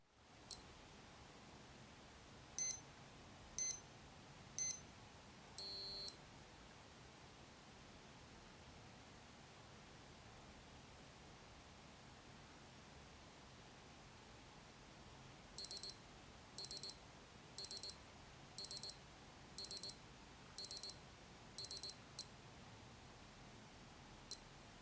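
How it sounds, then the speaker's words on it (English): A Casio W-220 digital watch sounds its stopwatch target-time alarm: a few isolated high beeps, a brief steady tone, then a regular run of repeated beep bursts, close and clear over a quiet background. "You can also set a target time in which the stopwatch will sound an alarm when the target time is reached."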